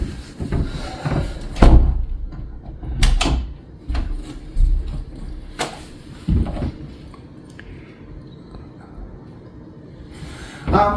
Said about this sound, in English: Ross, they're talking about this door. Go ahead and open it.